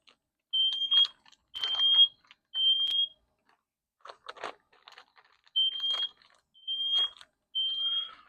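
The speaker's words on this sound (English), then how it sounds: "I got my fire alarm inside my bus going off" A fire alarm sounds inside a bus, giving a string of sharp, high electronic beeps at a steady rhythm, with soft crackling and clattering from cooking between the tones.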